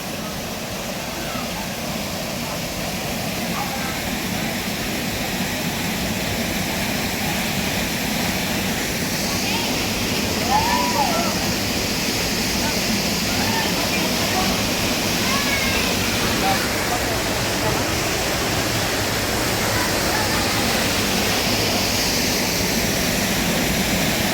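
Kilangin Falls in Majayjay, Laguna, roars as a steady, loud, broadband rush of falling water, continuous throughout with no breaks and faint voices barely noticeable beneath it.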